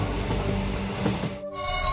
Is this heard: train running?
yes